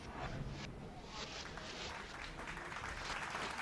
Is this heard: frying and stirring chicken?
no